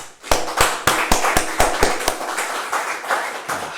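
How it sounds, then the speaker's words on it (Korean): Church congregation applause rises from a few sharp claps into a steady wash of many hands clapping together, fairly close and loud, with no talking over it. "우리 하나님께 영광의 박수 한번 봅시다"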